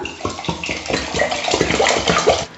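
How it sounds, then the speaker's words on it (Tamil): Water pours steadily onto washed seeraga samba rice in a vessel for soaking, a continuous splashing, gurgling fill that grows fuller and louder before stopping abruptly near the end. "இப்ப இந்த அரிசி ஊறத்துக்கு தண்ணி ஊத்திக்கலாம்."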